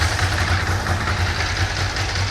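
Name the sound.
Ducati motorcycle with dry clutch, engine idling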